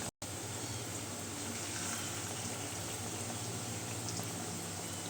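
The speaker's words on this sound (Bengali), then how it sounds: "এইভাবে করে ভেজে নিব" Pumpkin leaf fritters fry in oil with a constant, even sizzle and bubbling hiss. It stays close and steady from start to finish and is heard on its own, without talk.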